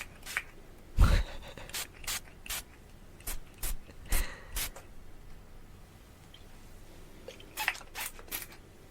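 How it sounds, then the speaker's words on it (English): Aerosol spray puffed right at a close microphone for ASMR, heard as a series of short, crisp hissing bursts, some single and some in quick pairs, with quiet pauses between and no talking. "Spraying directly into the microphone."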